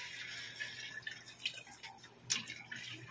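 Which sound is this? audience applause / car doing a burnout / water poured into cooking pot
water poured into cooking pot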